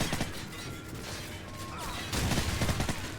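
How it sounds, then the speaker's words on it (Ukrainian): Gunfire in the video game Call of Duty 4: Modern Warfare, a rapid rattle of shots and impacts that grows louder in the second half, with mechanical clatter behind it. "мені в спину стріляють"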